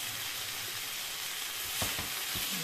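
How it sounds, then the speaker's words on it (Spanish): Garlic, leek and carrot sauté in a pan with a steady, close hiss of frying, joined by a few soft clatters from stirring near the end. "los ajos, el puerro y la zanahoria. Lo vamos a sofreír durante unos 3 o 4 minutos."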